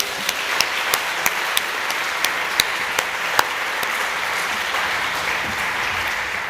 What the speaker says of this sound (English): So one more round of applause for our wonderful panellists